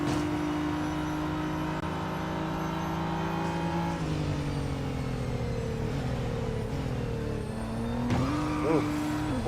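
Race cars in Real Racing 3, a RADICAL RXC in a Limited Series event, roar continuously at high revs, with engine pitch rising and dropping through gear changes and a brief tire squeal near the end, loud and close throughout.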